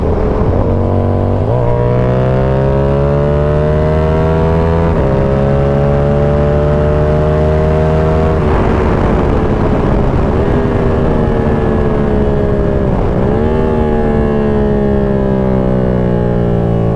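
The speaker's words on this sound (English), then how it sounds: "This is a solid sounding exhaust without earplugs, and my ears don't hurt." A Yamaha R7 motorcycle with an SC Project CR-T exhaust roars loudly while riding, its engine note climbing steadily through several gears with brief dips at each shift, constant wind rush underneath.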